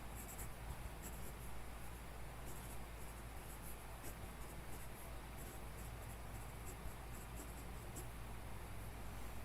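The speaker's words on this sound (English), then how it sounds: "The nib that came with it is too scratchy." Scratchy writing with a stock medium oblique nib on a desk pen, scraping across paper in a steady, continuous texture under a noisy background hiss.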